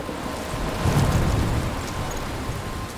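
Steady rain with a low rumble of thunder in a stormy scene from the video game Life Is Strange, a dense wash of noise swelling briefly, with no talking.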